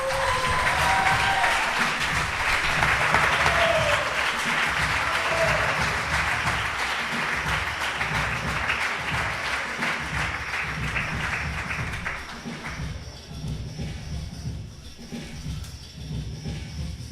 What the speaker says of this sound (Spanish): Un aplauso para José Saldaña.